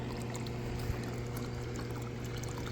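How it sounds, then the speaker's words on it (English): Warm water from a solar pool heater return pours steadily into a pool, a continuous splashing gush with a low hum underneath, close and unbroken throughout. "I'm getting a warm water return here, but I think it's a little more water than I want to have"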